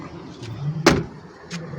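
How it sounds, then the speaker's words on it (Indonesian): A car door is opened from outside, giving one sharp latch clunk near the middle over a quiet background hum, with a fainter click just after. "Oke, pintu dari luar boleh buka."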